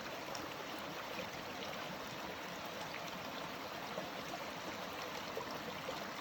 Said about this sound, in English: There's the stream.